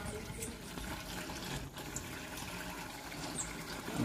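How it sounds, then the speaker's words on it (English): Water pours steadily into a cooking pot, a continuous close splashing rush filling the whole stretch without a break, with no talking over it. "now I'm gonna pour water in the pot now"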